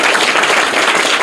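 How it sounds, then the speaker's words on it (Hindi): Loud, dense clapping from a school classroom of students, a brief burst of applause rewarding a correct answer, continuous and close. "जोरदार तालियां इनके लिए"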